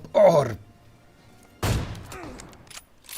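Two heavy AWM sniper rifle shots ring out in the PUBG video game, each a sharp loud crack followed by a trailing echo, spaced over a second apart.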